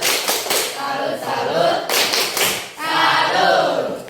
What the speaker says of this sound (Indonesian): Kita tepuk salut dulu buat Aja ya. Tepuk salut.